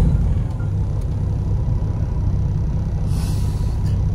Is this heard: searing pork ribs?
no